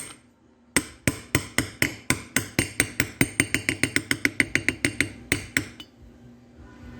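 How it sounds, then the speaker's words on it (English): A socket is hammered against a dust seal in a 2003 Dodge RAM 3500 dually steering box, giving about two dozen sharp metallic strikes in a steady rhythm that quickens in the middle, loud and close, then stops. "Now we can drive in our dust seal. Now I found this socket that fits perfectly in there."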